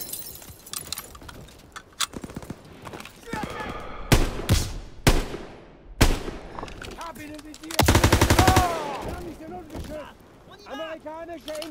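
Rapid machine gun bursts and single gunshots in the Call of Duty WW2 video game, loud and close, with a long sustained burst near the middle, while game voices shout over the firing.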